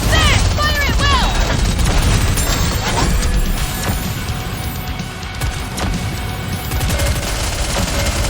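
A gunfire volley in Goddess of Victory: Nikke hammers out as a dense, loud stream of rapid shots and crashes that runs without a break, with a little game voice mixed in.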